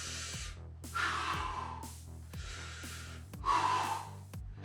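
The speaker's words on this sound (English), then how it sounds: "you're gonna inhale coming down, exhale going up." A person doing toe-touch exercises in an at-home ab workout breathes hard and audibly, with four or five strong rhythmic inhales and exhales close to the microphone, each breath separated by a short pause.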